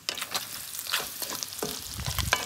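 Sausage frying in a pan with grated tomato is stirred, a close steady sizzle broken by repeated scraping strokes of the spoon across the pan.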